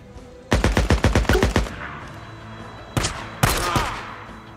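Video game gunfire in Days Gone: a rapid burst of about ten sharp shots, a short pause, then two louder single shots with a ringing tail.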